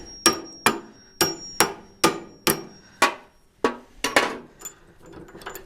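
Sharp metallic knocks on a Super A Fast Hitch arm as a cotter pin is worked out: about a dozen loud, close strikes in an uneven rhythm, each with a brief ringing decay, and no talking.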